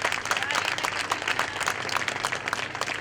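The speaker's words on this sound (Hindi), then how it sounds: "आप जब ताली बजाएंगे तो बच्चों का प्रोत्साहन बढ़ता है।" Audience applause at a Geeta Ashram celebration in Jodhpur, dense continuous clapping from a crowd cheering on children, steady and fairly loud throughout.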